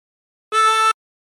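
A single short harmonica note, hole 3 drawn and bent down to A, held for under half a second, clean and close with nothing else around it.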